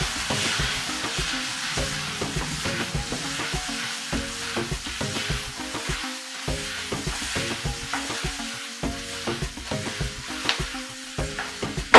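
Mint chicken fry sizzling steadily in a pan while being stirred, with a continuous loud frying hiss and repeated scraping and clinking of the spoon throughout, no talking.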